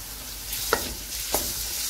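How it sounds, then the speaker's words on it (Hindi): Garlic and ginger frying in a pan with golden onions for Kabuli pulao, a steady close sizzle with two brief scrapes of a spoon. "तकरीबन 1 मिनट तक फ्राई करेंगे।"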